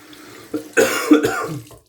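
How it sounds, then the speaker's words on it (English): Hands are rinsed under running water at a sink after a straight razor shave, with a few short splashing bursts over a faint background hiss. "Rinse the hands."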